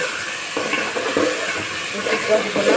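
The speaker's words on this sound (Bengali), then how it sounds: "সরষে বাটাটাকে একটু নেড়ে চেড়ে জল দিয়ে দেবো" Mustard paste being stirred in a frying pan during cooking of a fish curry with drumsticks, giving a muffled scraping and gentle sizzle, close and moderately loud with faint background hiss.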